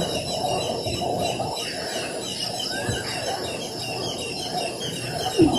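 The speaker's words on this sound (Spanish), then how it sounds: "Este video con los sonidos de pájaros es de la noche anterior al terremoto." Birds calling at night in the Philippines before an earthquake, a continuous chorus of high chirps and trills over a steady background hiss, with a few clucking notes, moderately loud and without speech.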